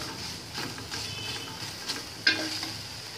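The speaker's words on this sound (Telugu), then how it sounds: "ఇవి కొద్దిగా ఫ్రై అవ్వాలి." Carrots and leafy greens sizzle steadily in a pan for masala idli, a soft continuous frying hiss with a few faint stirring clicks, close and alone without talk.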